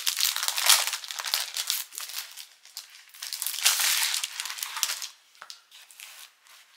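Plastic wrapping crinkles and rustles as a packaged scrapbooking craft item is opened, in close, loud bursts of crackling with brief pauses between handfuls.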